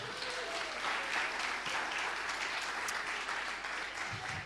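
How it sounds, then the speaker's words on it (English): A church congregation at an all-age service claps for a volunteer, a soft, continuous patter of many hands heard at some distance, fairly quiet and even throughout, with a faint murmur of voices underneath. "Right, Daniel, give him a big clap."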